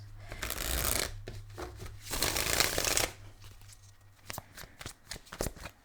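A deck of tarot cards is shuffled by hand in two bursts of dense riffling and flapping, followed by softer, scattered card taps and slides.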